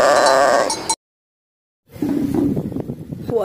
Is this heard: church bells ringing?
no